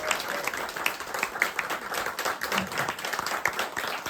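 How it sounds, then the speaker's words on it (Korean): Audience at a humanities lecture giving a lecturer warm applause, dense, steady hand clapping from a sizable crowd, close and lively, continuing without pause throughout. "열렬한 박수를 받아보기는 오래간만이에요"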